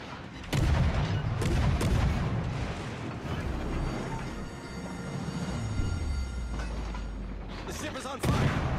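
Naval guns fire in the World of Warships: Legends game from a tier-four Emerald cruiser, with heavy booming salvos at the start and again near the end, rumbling and echoing between them.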